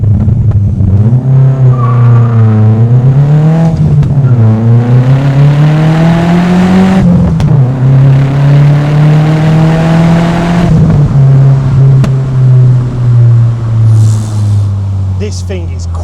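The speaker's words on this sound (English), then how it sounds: "So we've got the tyres warm and we're ready for a nice little first gear pull." An Audi S3-engined MK2 Golf GTI accelerates hard in first gear with warm tyres, its engine note rising loud and close in several climbing pulls with brief dips at each lift, heard from inside under occasional talk.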